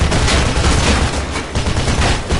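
Continuous loud gunfire in Mirror's Edge, dense overlapping shots forming a steady roar with no clear gaps.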